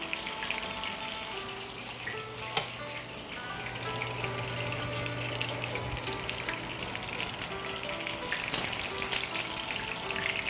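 Shrimp toast frying in a pan of oil during Chinese home cooking, a dense, steady sizzle and crackle heard close, with a few small clinks and pops on top and no talking.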